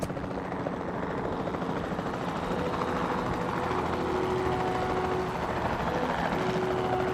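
A helicopter in Jurassic World Evolution 2 flies with a continuous, even rotor thrum and engine whine, loud and close throughout, with no talking.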